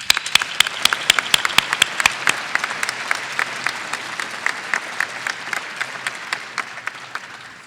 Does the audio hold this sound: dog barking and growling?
no